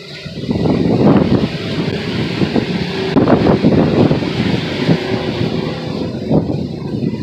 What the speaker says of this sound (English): I see some wind. There's wind coming.